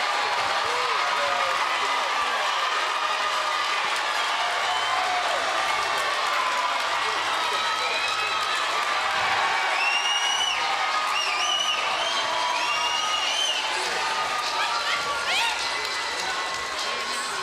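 Arena crowd at a women's 168-pound championship boxing bout, Claressa Shields versus Nikki Adler, roaring and cheering after a knockout: a dense, sustained wall of noise throughout, with a commentator talking over it.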